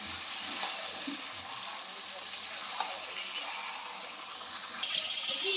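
Mutton kosha cooks in a pan with a continuous, even hiss of frying and occasional stirring knocks, fairly close, while a voice may be faintly present underneath.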